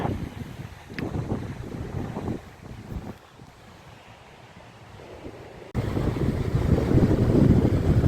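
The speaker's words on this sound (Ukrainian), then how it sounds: "Бачите, це ще не шторм. Це ще тільки такий малий, маленький штормець." Autumn wind blowing over the Black Sea in a small storm, with waves washing against a spit; steady, fairly loud rushing and buffeting microphone wind noise that swells stronger toward the end.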